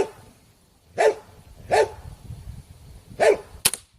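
A dog barks four times in fairly quick, irregular succession at close range, each bark sharp and loud, with short quiet gaps between them, heard outdoors during airgun target shooting.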